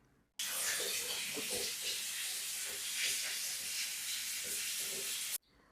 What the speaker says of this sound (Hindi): शावर में से जोरदार पानी आ रहा होता है।